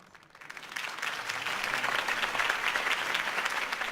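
Crowd applause in Batman: The Telltale Series follows Harvey Dent's campaign speech, swelling from a quiet start into a dense, steady clapping that holds to the end, heard alone without talk.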